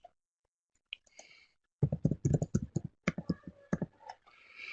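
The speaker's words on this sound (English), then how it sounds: "So I'm typing it too quickly." Quick bursts of clicky keystrokes on a computer keyboard, close and crisp, in irregular flurries with brief pauses between.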